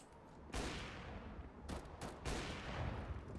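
Tec-9 bursts of rapid gunfire ring out in Counter-Strike on the Nuke map, loud sharp volleys in several clustered bursts with no voices over them.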